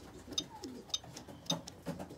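Racing pigeons coo softly in a quiet setting, a few low, rolling calls spaced out and heard close by, with faint rustling between them.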